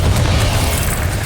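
A loud, low explosive boom from the Confringo fire spell in the game Hogwarts Legacy, rumbling steadily for over a second with a sharp crack near the end, no voices.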